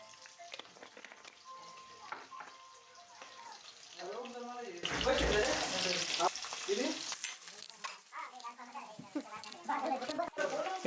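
Cumin seeds and green chilli sautéing in a pan for a paneer dish, a close crackling sizzle with stirring that grows louder midway, while someone talks over it throughout.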